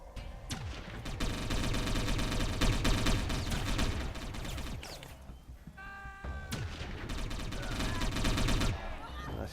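Video game gunfire from Satellite Reign crackles in dense rapid bursts and booms, nearly continuous across the stretch with a brief lull midway, as a person talks over the shooting.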